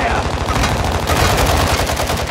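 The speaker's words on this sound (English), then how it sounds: "Taking effective fire!" Rapid automatic gunfire in the video game Call of Duty Warzone 2.0, loud and continuous bursts filling the whole moment without pause.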